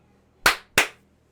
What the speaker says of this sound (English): let me do the clap